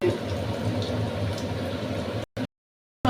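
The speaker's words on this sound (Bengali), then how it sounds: "দেখো আস্তে আস্তে দিয়ে দিয়েছি, দিয়ে আমি তিনটে করে এখানে আমি ভেজে নেব।" Fish cutlets sizzling in hot oil in a pan, a loud steady crackle and hiss that cuts out abruptly near the end.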